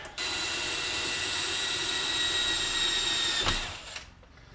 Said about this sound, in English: I just drilled one hole in that cylinder